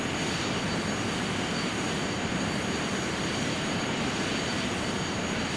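Constant loud roar of an airliner's jet engines on approach to St. Maarten in Flight Simulator X, a dense unbroken broadband rumble with no pauses.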